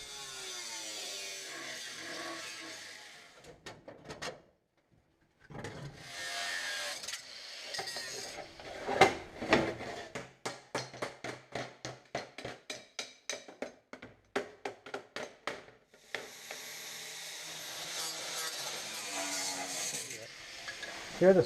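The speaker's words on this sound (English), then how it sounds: "So let me grab the cutter, and I'm going to cut it right in here and just flop it over and cut what's inside here." A cutter slicing through the rear internal support structure of an Audi Sport Quattro, giving bursts of rapid rasping, ratcheting cuts with short pauses between them, close and fairly loud, with no talking.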